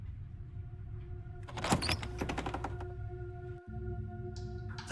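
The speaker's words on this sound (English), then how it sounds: "The door to the basement creaks open" An old door in the game Slay the Princess creaks open with a cluster of faint scraping, clicking noises over a low steady hum, quiet and close, with no talk.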